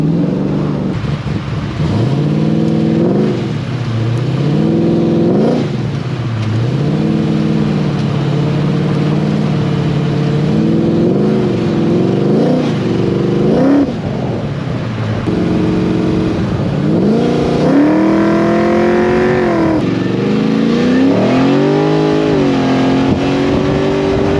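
A powerful 1972 Holden HQ SS with an LS3 V8 crate engine making 600 horsepower revs repeatedly, climbing and dropping in pitch, loud and close, with a deep rumble between the throttle blips.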